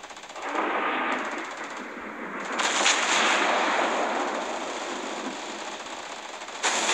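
Naval gunfire in the mobile game World of Warships Blitz, a sustained roaring blast that swells and rumbles for several seconds and then surges again near the end, loud and without speech.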